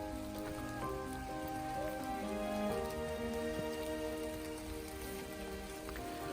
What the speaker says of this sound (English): And now it's raining even more.